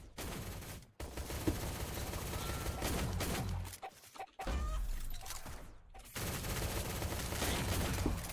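Dense, continuous automatic gunfire barrage in a first-person shooter video game, loud and sustained with a few brief pauses and scattered shattering impacts.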